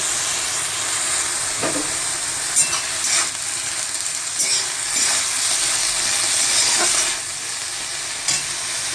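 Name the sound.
leafy greens frying and sizzling in pan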